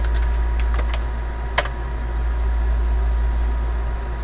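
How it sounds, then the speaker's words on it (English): A password is typed on a computer keyboard, producing a few faint, quick key clicks and one sharper tap over a steady hum of background noise. "And then you're going to type in your password."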